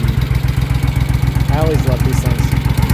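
A 1971 Moto Guzzi Ambassador 750 custom bagger motorcycle idling close by, its engine running in a steady, lumpy rhythmic pulse, while someone speaks briefly over it.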